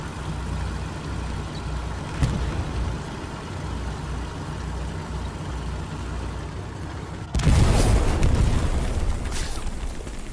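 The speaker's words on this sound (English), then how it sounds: "There's about to be another explosion." In a competitive Hell Let Loose World War II match, a loud explosive boom bursts in over a continuous low rumble of battlefield noise and vehicle engines. A sharp crack comes earlier, and the blast's roar lingers to the end.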